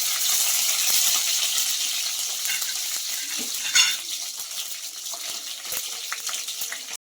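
Cumin seeds, curry leaves and garlic sizzle in hot oil in a pan, a bright continuous crackle that fades slightly over time, with a sharp metallic clink of a spoon against the pan midway.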